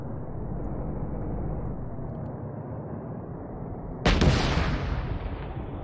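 A tank cannon fires once in a video game, a sudden loud boom that rolls off over about a second, set against a steady low rumble of engine and battlefield ambience.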